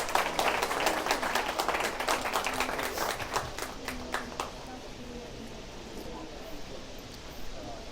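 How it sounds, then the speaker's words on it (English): An audience at a Bitcoin policy event breaks into applause, dense scattered clapping that is loud at first and then gradually thins and fades toward the end. "big round of applause to the SFL and to Mar for putting it together"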